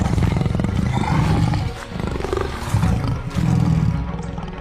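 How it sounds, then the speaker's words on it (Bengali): Two cartoon tigers roar as they swim a river in the Sundarbans, rushing toward a boat; loud, sustained, overlapping growling roars fill the whole stretch with brief dips between bursts. "দেখা যায় দুটি বাঘ নদী সাঁতরে দ্রুত মদনের নৌকার দিকে ধেয়ে আসছে।"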